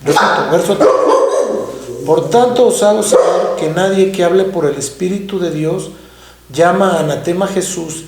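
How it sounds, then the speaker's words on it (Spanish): A dog barks several times in loud, harmonic bursts close by, overlapping a man reading aloud in Spanish, with the barking running through most of the stretch. "Perdón por el ladrido."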